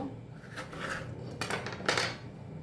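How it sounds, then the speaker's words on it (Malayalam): Raw mango cut into thick pieces with a knife, a few sharp close knife strikes and scrapes against a board, alone without talk. "ഈ ഒരു കനത്തിൽ നമുക്കെല്ലാം അരിഞ്ഞെടുക്കാം കേട്ടോ. മാങ്ങയൊക്കെ അരിഞ്ഞെടുക്കാം."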